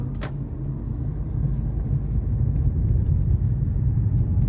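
A car drives home through a residential district, steady low engine and road rumble heard from inside, growing slightly louder and continuing without talk.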